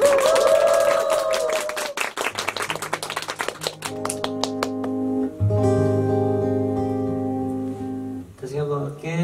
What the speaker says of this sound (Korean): 아니면 다 박수 끝난 다음 들어갈까?